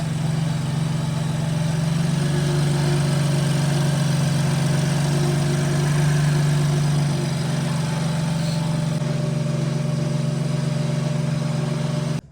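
A BMW F80 M3 engine idles just after an oil change, holding a steady, even low hum throughout with a faint higher whine above it, and no one speaking.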